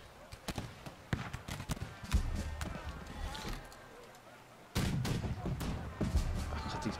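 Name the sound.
cannon fire in the video game March to Glory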